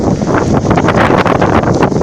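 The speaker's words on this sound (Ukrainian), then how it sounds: "Зараз дуже погана погода, сирість, дощ, вітер." Strong wind in rainy, damp weather at a garden plot buffets the microphone without a break, a loud rushing roar that fills the whole moment.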